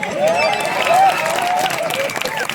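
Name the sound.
audience clapping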